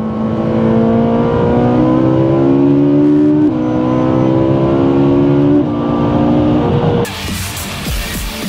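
A high-revving Ferrari 458 Italia engine screams up through gears, its pitch climbing and dropping at each shift, loud and close, before a rougher rumble takes over.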